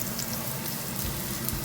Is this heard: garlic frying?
yes